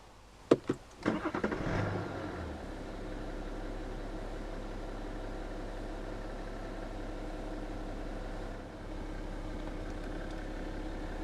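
A 2016 BMW 530d M Sport F10 fires up with a brief cranking burst and catch, then settles into a steady, low diesel idle that runs on evenly, with no talk.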